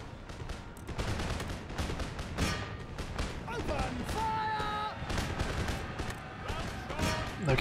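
Musket volley fire from British infantry in the Empire Total War battle game, with ragged bursts of shots crackling repeatedly against dragoons amid a busy, continuous din of battle effects.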